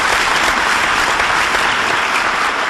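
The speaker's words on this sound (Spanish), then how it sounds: "Todos se merecen un fuerte aplauso." Continuous, loud applause for fifth-grade secondary students, a thick, even roar of many hands clapping with no pauses or talk.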